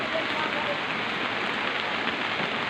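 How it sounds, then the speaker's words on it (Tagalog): Rain pours at a riverside beach resort, a steady, dense hiss of drops hitting surfaces that stays even and fills the whole stretch. "Medyo ulan-ulan man jud"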